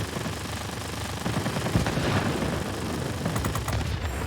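P-40 Warhawk fighter guns in a video game chatter as continuous rapid fire beneath a droning engine, with a brief louder stretch of shots around the middle.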